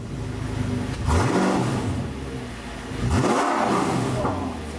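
An Audi R8 V8 engine revs hard twice, each burst rising and falling in pitch, loud and close, with a steady rumbling idle in between.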